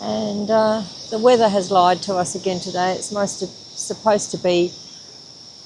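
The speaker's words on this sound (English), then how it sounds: "I don't know if you can hear the cicadas in the background." Steady high-pitched cicada buzzing drones continuously in the background near the Camden Haven River, Australia, while a person talks over it.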